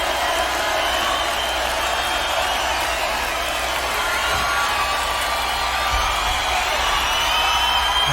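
A large crowd at a concert cheers and whoops in a steady, dense roar heard at a distance.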